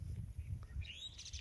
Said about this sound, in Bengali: ওই যে ছোট ছোট পাখি ডাকছে